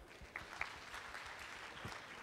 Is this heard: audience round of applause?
yes